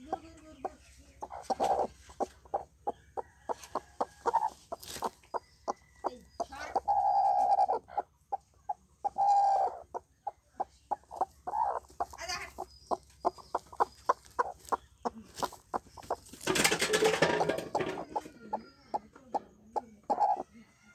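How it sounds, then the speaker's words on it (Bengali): Hens pecking at a mobile phone while brooding on eggs, rapid close tapping knocks in quick runs, mixed with soft clucking calls between the pecks. "দেখছেন কি করে মোবাইলে ঠোকা মারছে"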